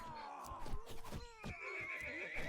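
Horses neighing and whinnying during a chaotic melee battle in the strategy game 0 A.D., several overlapping cries amid clip-clop hooves and battle clatter, fairly loud and busy.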